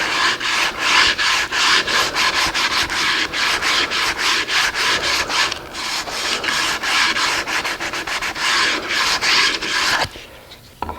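Sandpaper is rubbed by hand along the edges of a poplar pie safe in repeated back-and-forth strokes, loud and close, stopping near the end.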